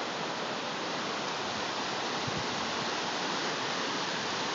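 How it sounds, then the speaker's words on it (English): Cold snowmelt river in the mountains of southeastern Idaho, a steady broadband rushing roar of flowing water, constant and fairly close, with no voices over it. "There's the river, and it is really cold."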